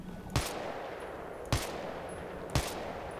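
Sniper rifle shots in Battlefield 3 gameplay, three sharp loud cracks spaced about a second apart, each with a brief echoing tail over a steady low game background.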